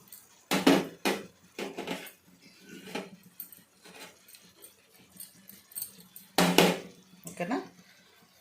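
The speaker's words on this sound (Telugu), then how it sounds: "ఇప్పుడు మనం మూత పెట్టేద్దాం." A lid clanks onto a cooking pot holding an egg and raw cashew curry, two sharp metallic knocks standing out near the start and again later, mixed with lighter utensil clinks and a voice talking.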